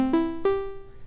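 An OP-1 synthesizer's dry digital-engine patch without effects or LFO plays a few short, bright, buzzy tonal notes, each with a sharp attack, stepping in pitch, the last ringing and decaying.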